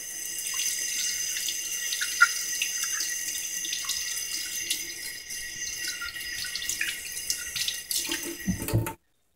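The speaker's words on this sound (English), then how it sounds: "Give it a rinse." Tap water runs steadily into a sink as a part from an Emson pressure smoker is rinsed under it, a continuous close hiss that stops abruptly near the end.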